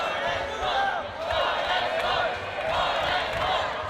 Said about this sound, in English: Big cheers again from the crowd.